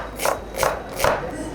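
Three steady knife strokes chop an onion on a board, crisp and close, evenly spaced.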